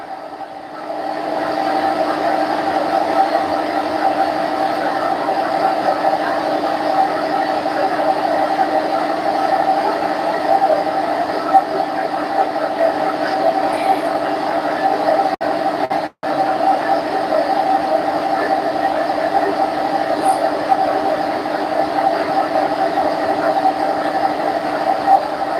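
A workshop air compressor runs continuously, a loud, steady mechanical drone with a constant hum. There is a brief dropout partway through.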